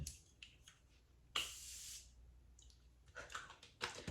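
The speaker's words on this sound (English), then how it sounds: "I'm going to use my More spray to spray that down" A few quiet spritzes of a makeup setting spray bottle up close, one longer hiss in the middle and a couple of short bursts later.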